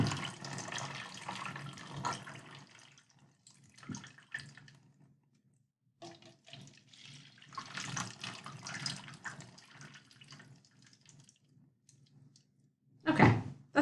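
Water runs into a bucket in uneven bursts, pouring, pausing and starting again, quiet and close, with a louder splash near the end.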